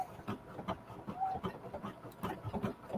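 Brother SE 1900 embroidery machine stitching a jacket, a quiet rapid rhythmic clatter of the needle repeating steadily without pause.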